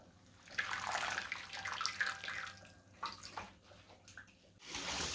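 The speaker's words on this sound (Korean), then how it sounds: "이제 불을 끄시고 찬물에 헹궈 오시면 됩니다." Cold tap water runs steadily into a kitchen sink while blanched chamnamul greens are rinsed, with a brief lull, then a fresh surge of splashing flow.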